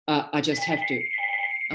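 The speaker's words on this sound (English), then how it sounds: "that's my phone. Can we just ignore it?" A telephone rings in a steady electronic trill beneath a woman's speech, carrying on alone for a moment before her voice returns.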